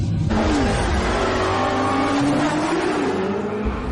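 A Dodge Challenger muscle car's 6.4-litre V8 revs hard, its engine note climbing steadily in pitch over several seconds. The sound is loud, close and continuous, with no talking.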